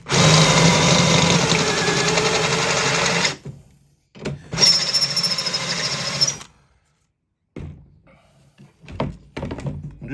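A power drill pre-drills a wooden backboard for a DIY fairground high striker, with loud close whirring bursts that stop and restart, separated by short knocks and quiet gaps.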